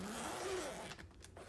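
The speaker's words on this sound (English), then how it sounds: "to gain access to the bag on this, you do have a zipper on the side" A zipper is drawn open along the side of the bag compartment on a Hoover Decade (Elite) Soft & Light upright vacuum, a close, steady rasp that runs for most of the moment and then stops, leaving quieter handling noise.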